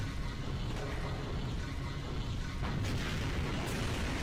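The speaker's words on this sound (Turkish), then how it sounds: "Cibili işler bize roket atıyor." Rockets slam into an animated Skibidi Toilet battle as a dense, continuous rumble of blasts, a loud low roar that never lets up, with no talking over it.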